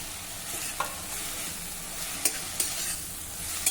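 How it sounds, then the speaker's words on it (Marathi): Tomato and coriander masala sautés in a pan with a constant bright sizzle, broken by several quick scraping stir strokes; close and fairly loud, with no voices. "पुन्हा आता आपल्याला हे जरा परतून घ्यायचं आहे."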